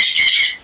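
A sun conure parrot in a breeding cage lets out a single short, shrill squawk, close and loud.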